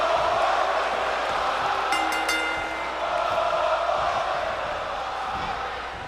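An arena crowd in a WWE SmackDown universe-mode wrestling game roars as a loud, constant wash of cheering, with a brief whistle or shout rising partway through.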